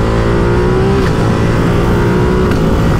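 A Ducati Multistrada 950 S motorcycle engine revs hard and close, with loud sustained roar and quick-shifter gear changes giving brief sharp breaks in the pitch around one and two and a half seconds, with no talking.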